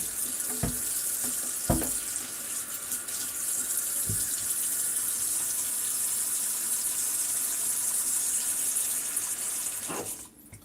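Cold tap water runs in a steady, fairly loud stream to rinse homemade butter made from heavy whipping cream, with a few light knocks before the flow cuts off near the end.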